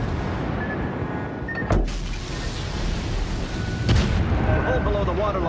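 Torpedoes strike a ship in World of Warships: Legends, two heavy booming impacts landing about two seconds apart over a constant loud rumble of battle noise.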